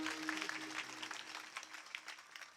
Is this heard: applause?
yes